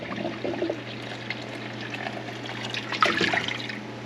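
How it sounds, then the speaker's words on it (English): Whey and curds being strained from a pot into a bowl, a soft trickling and pouring of liquid close by with light clinks, over a low steady hum. "you guys are going to see me strain off the whey and the curds"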